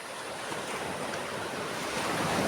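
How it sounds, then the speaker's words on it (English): Atlantic surf breaks on an unspoiled beach on Brazil's north coast on a sunny day, a continuous broad roar of waves with wind buffeting the microphone, no voices. "Waves coming from the ocean."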